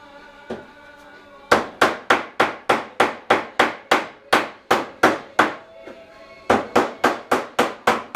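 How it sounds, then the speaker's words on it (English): Sharp, loud hammer blows pound sheet metal being formed into a furnace plenum, first a lone strike, then a fast, even run of ringing impacts, a brief pause and another quick series. "Hammer forming, baby. It's a lost art."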